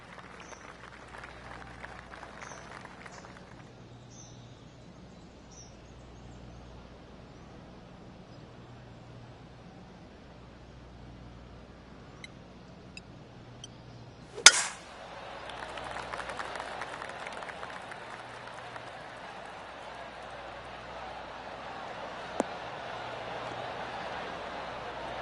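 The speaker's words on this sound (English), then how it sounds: "Oh, golf clap." Golf clap from the gallery at a golf tournament, a brief sharp burst followed by a soft scattered patter of applause from a distant crowd over a quiet outdoor background.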